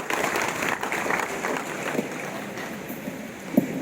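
Audience applause during a speech, a steady wash of many hands clapping throughout, moderately loud and unbroken, with no voices over it.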